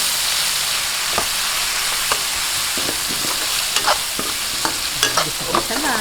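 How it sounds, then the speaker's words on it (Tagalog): Tomatoes and onions sautéing in a pan, a dense, loud sizzle with frequent clicks and scrapes of a spatula stirring close by, no talking. "Gisang-gisa na po itong ating kamatis sibuyas."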